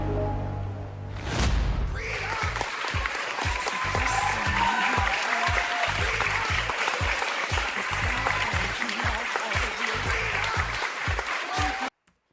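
Cheering and applause sound effect on a live show, a dense wash of clapping and crowd noise that swells in after a brief voice and holds steady and loud before cutting off abruptly.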